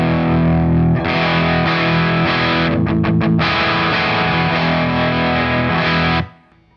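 An overdriven Gibson Les Paul electric guitar on its bridge pickup plays sustained distorted chords with a brief choppy stutter in the middle, loud and alone before cutting off at the end.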